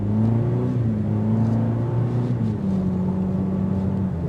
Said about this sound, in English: That's just to show you the motivation that you get out of this inline 4-cylinder turbocharged engine.